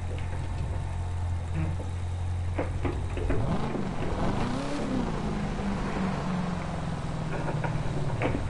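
A Corvette drives in The Crew 2 with a steady engine drone, and its pitch swells and sweeps as the car revs and accelerates midway through, then settles into a sustained hum.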